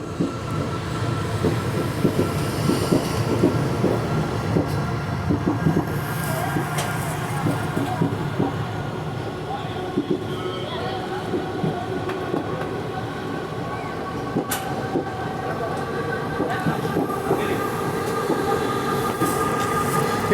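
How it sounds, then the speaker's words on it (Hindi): The Rajya Rani Express rumbles along the rails with continuous, fairly loud wheel and carriage noise and faint clacks while overtaking the Janata Express on the Nanded to Mumbai run, heard from inside a 3 AC coach. "तो अगेन हमारी ट्रेन ओवरटेक कर रही है जनता एक्सप्रेस को।"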